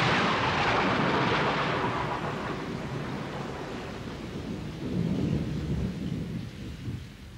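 A heavy thunderstorm with steady rain, deep rolling thunder rumbling continuously and a second swell of thunder near the end; loud and close, with no voices.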